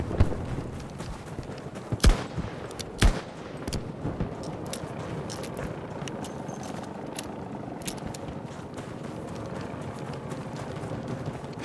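Two loud sharp revolver shots ring out early in Battlefield, then a steady rumble of game combat and scattered distant shots continue throughout.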